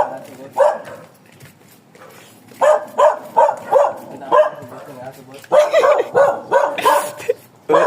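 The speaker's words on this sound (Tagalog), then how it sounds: "May aso kasi." A dog barks repeatedly nearby in loud, uneven clusters of sharp barks, with people talking around it.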